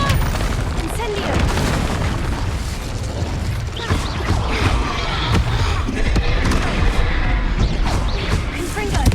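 Spell explosions and impacts boom and crash without pause in the Hogwarts Legacy video game, loud and layered with bursts and thuds, while a voice keeps calling out spell names over the din.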